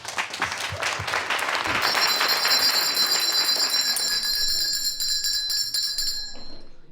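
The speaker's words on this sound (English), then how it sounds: "It's a traditional brass bell, one that my mother and grandmother would have on their mantelpieces or on their shelves." A traditional brass bell rings with a bright, sustained metallic tone that rises out of a crowd's applause, lingering clearly as the clapping fades and then dying away.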